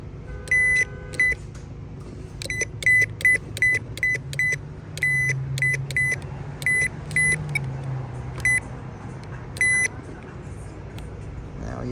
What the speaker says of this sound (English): I don't know if you can hear it, but I can hear the valve jumping